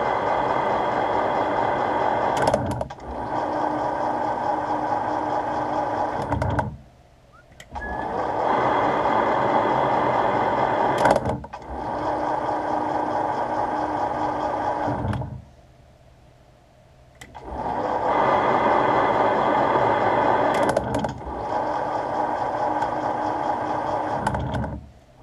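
A Schaublin slotting machine cuts a transmission shaft in long, loud mechanical strokes, with three sustained passes separated by brief quieter pauses and a sharp clack at the start of each stroke.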